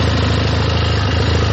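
A Benelli TRK 502 twin-cylinder adventure-touring motorcycle idles steadily up close, a loud, even low throb with a rhythmic pulsing beat and mechanical vibration.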